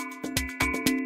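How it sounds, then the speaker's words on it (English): Percussion processed by the Corpus resonance effect set to plate material: four quick clanging hits with a hollow, metallic tube-like ring and a steady tonal hum sustained beneath, close and fairly loud. "sounds like it's being put through some kind of metal tube or something like that"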